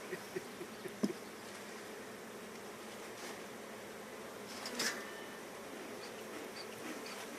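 Honeybees buzzing around an open hive during an inspection, a faint, steady swarm hum with a few brief knocks and clicks near the start and midway.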